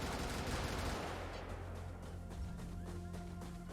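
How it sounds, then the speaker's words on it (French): A chain of explosions in the Brigador video game: a dense, loud burst of overlapping blasts and crackles that thins into a steady rumble with a low hum underneath. "Allez, réaction en chaîne d'explosion"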